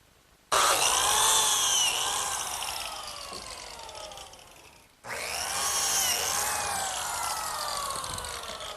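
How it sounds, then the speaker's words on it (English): A biscuit joiner whines up loudly and plunges twice into the wooden ends of table runners, each cut a sustained high motor drone that slowly sags under load before a brief pause and the second cut. "the first thing I'm going to do is cut the slots in the ends of the runners"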